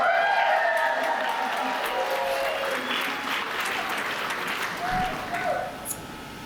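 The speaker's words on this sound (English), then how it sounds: "Can we clap it up for Donna and Calvin?" Wedding guests at a reception applaud and cheer for the newly married couple, a loud, sustained burst of clapping that holds steady before tapering off, with scattered voices mixed in.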